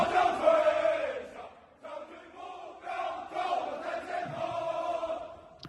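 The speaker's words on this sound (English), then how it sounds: "They're cheering it. I think they're cheering them then." A crowd cheering at a military parade, a swelling roar of many voices in uneven waves of shouting, moderately loud and somewhat distant.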